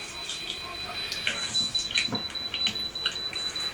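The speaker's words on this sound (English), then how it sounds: "Is the beeping too loud?" A steady high electronic tone beeps on and off at a regular pace, with light rustling and handling noises underneath.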